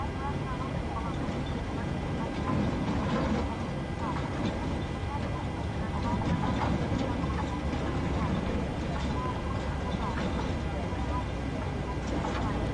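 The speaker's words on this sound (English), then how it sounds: "start engine 1" A PMDG 737-800 in a flight simulator spools up engine one during start, giving a steady, loud, dense whine and rumble that holds throughout while people talk over it.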